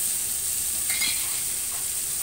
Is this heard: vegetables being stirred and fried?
yes